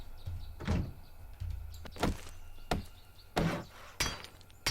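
Door reinforcement in the video game 7 Days to Die, a series of about seven sharp knocking impacts spaced roughly every half second to second, each followed by a brief ring-down, over a low game hum.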